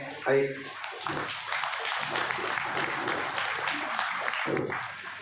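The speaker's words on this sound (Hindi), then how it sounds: "एक ज़ोरदार तालियों के साथ में" An audience at a Mutawalli association meeting about waqf property applauds its members, a moderate, steady spatter of clapping lasting several seconds with voices murmuring underneath.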